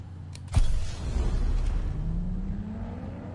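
Nissan Skyline in Need for Speed, a sharp thump as the engine starts, then a low rumble and a rising whine as the car pulls away, close and moderately loud.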